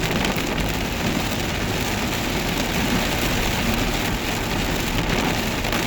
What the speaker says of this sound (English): heavy rain, flooding, torrential downpours, and this is it.